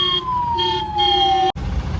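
A loud ambulance siren wails steadily on a road near a medical college in Kottayam, Kerala, its tone sliding slowly downward before cutting off abruptly, then a short burst of road noise follows.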